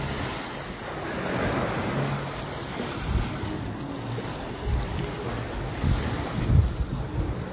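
Surf on a small Mediterranean beach at Es Cana, Ibiza, rolls in steadily with a broad wash of waves and some wind buffeting the microphone, swelling in places and carrying no speech.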